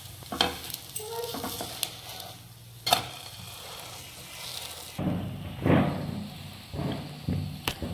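Food cooking on a medium flame sends up a steady sizzle broken by scraping stirs and light thumps, louder and fuller after a short break midway.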